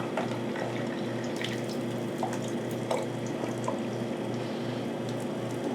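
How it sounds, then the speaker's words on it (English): Noodle cooking water poured off into a kitchen sink, a steady running-water wash with a low hum beneath and scattered drips and splashes, continuous and fairly close. "we're going to want to just drain the water without losing the noodles."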